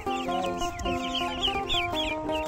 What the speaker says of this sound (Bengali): এগুলো হচ্ছে হাঁসের বাচ্চা।